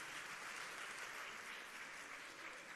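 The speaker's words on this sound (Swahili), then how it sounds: "tuwapigie makofi" A large crowd at a political event with Kenya's President Ruto applauds county assembly members, a dense, even roar of clapping that holds steady throughout at moderate distance.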